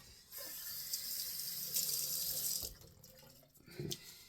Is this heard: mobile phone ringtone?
no